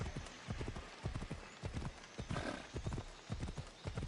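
Horse hooves clip-clop steadily in a video game at an even walking rhythm, close and clear, with a soft whinny partway through.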